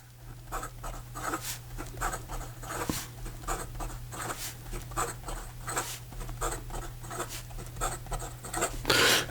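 A Montegrappa American Dream fountain pen nib scratches quickly across paper in fast writing, a close, rhythmic run of short scritching strokes over a low steady hum.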